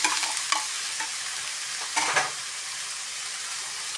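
Squash (kalabasa) sautéing in a pan with shrimp, a steady broadband sizzle with a few scraping stirs and clanks of a utensil, close and continuous, no talking.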